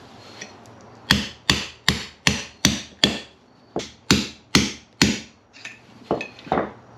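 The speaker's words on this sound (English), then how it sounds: "So I'm going to hammer this down." A string of about a dozen sharp metallic hammer blows driving out a bushing from a Pontiac GTO front control arm, steady and deliberate, close by, with a short pause partway through and lighter taps at the end.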